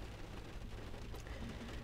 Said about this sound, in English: it looks like the rain is starting back up. It's pretty bad.